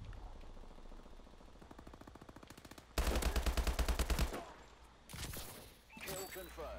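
Rapid automatic gunfire in the video game Call of Duty Advanced Warfare multiplayer, loud close bursts of fast rhythmic shots with short gaps between them, a player's voice talking over parts of it.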